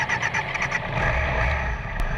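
An old BMW motorcycle engine rumbles and builds steadily as the bike pulls away at night, heard close with a low, even drone.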